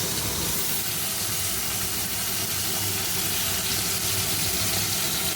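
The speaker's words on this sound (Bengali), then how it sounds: "এই চিমনিটার আওয়াজ হচ্ছে।" A kitchen chimney exhaust runs in a home kitchen, giving a steady, close, broadband whoosh and hiss with a low hum underneath, unchanging throughout with no voices.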